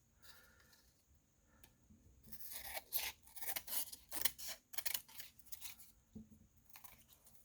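Scissors trimming paper for junk journal tags, a burst of quick snipping cuts with crinkly paper handling in the middle, close and fairly quiet in a still room.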